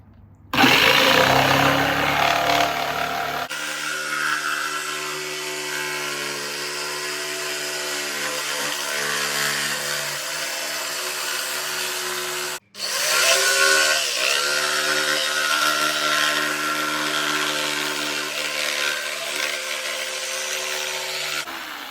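A power saw buzzes loudly and continuously as it cuts through wood, pausing for a moment before revving up and cutting again.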